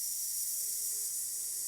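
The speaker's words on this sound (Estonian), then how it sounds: "Pealegi tuli õhk sisinal kummist välja." Air hisses out of a flat bicycle tyre in a cartoon as a steady, faint, continuous high hiss with no other sounds.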